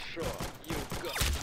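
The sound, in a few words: gunfire in Roblox Arsenal video game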